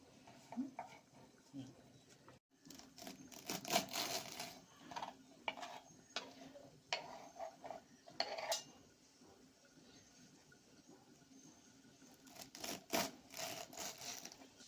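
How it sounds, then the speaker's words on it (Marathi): Wild leafy forest vegetables are chopped finely on a board, with quiet clusters of rapid cutting taps and clinks in bursts separated by pauses, recorded close but faint. "हे बघा असं बारीक बारीक आपण चिरून घेणार आहे सगळी भाजी"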